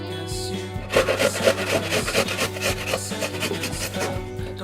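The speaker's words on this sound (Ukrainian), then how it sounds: "Ми їх зараз очищаємо і на терпочку будемо натирати в миску." Peeled apples grated on a kitchen grater into a bowl, a close continuous scraping rasp in quick strokes over a steady low hum, with no talk.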